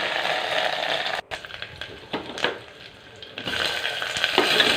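Mustard seeds, cumin and curry leaves sizzle and crackle in hot oil, a steady frying hiss with occasional pops and a brief stirring clatter.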